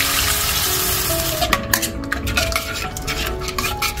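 Lukewarm water is poured into spice paste frying in a kadai, with a watery splash followed by clinks and scrapes of stirring against the pan; up close and moderately loud, with no talk.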